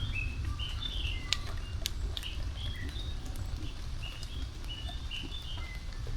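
Rain falls on a long walk across Hong Kong as a soft, even patter, with birds chirping clearly above it.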